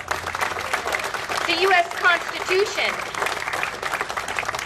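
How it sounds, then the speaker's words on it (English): Audience applause at a state legislature session honouring a combat veteran lawmaker, a broad clapping wash through the whole stretch with a voice talking over it. "I think he deserves an applause just for that"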